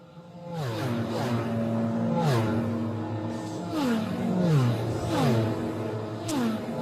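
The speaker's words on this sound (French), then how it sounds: "C'était la moto. MotoGP." Racing motorcycle engines at the Bol d'Or endurance race, loud and continuous, with repeated revving sweeps rising and falling as bikes pass and shift, no voices.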